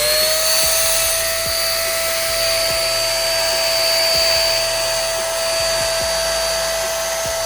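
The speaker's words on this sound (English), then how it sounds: "I'm using this Wagner paint sprayer" A Wagner paint sprayer runs continuously while spraying paint onto kitchen cabinets, a loud steady motorized whine with a high tonal hum and rhythmic low pulsing, close and alone.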